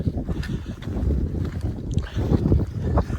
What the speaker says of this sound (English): it's just too high and the wind's too strong